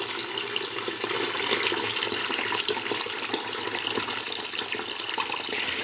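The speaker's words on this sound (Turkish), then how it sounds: "Su içerisinde doluyor. Su tamam dolsun ki içerisindeki bütün pislikleri temizlesin." Running water steadily fills a combi boiler heat exchanger during cleaning, a continuous close, fairly loud rushing and gurgling with no pauses.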